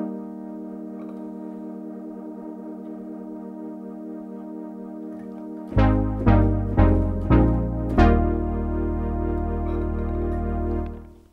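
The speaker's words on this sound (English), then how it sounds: "I'm actually going to select the chorus effect here for this particular sound" A Nord Wave 2 synth patch with chorus effect holds a shimmering sustained chord, then several firmly struck chords ring out in quick succession before sustaining and fading, heard on its own.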